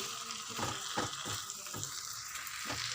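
Spice paste frying with softened tomatoes in a pan sizzles steadily up close, with rhythmic scraping strokes of stirring recurring throughout.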